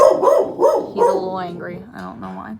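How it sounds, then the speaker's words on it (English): A pet dog barks and yelps close by in a home, a few sharp excited barks at the start easing into whiny yips, mixed with a person speaking over it. "that's my dog"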